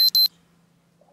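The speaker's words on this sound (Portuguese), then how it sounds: "Meu despertador." An alarm clock gives two quick, loud electronic beeps, then cuts off into near silence with a faint hum behind it.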